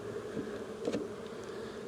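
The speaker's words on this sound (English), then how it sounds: "The bees are looking for their home." A soft, continuous buzz of many honey bees around a hive, with a few individual bees droning briefly closer.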